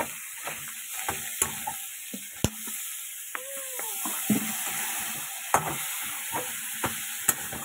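Muri ghonto is stir-fried in a pan with Maggi masala: a steady sizzle runs beneath repeated scrapes and clacks of a spatula against the pan at an irregular rhythm.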